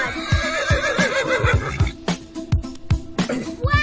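A horse whinnies loudly and repeatedly with rising, wavering cries, accompanied by rhythmic clip-clop hoof beats throughout.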